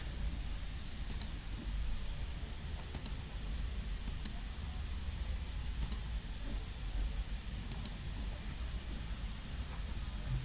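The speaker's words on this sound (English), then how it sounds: "you click on Bo and south and click on the add" Computer mouse clicks while working in DHIS2 software, a handful of faint, sharp single and double clicks spaced a second or two apart over a steady low hum, with no talking.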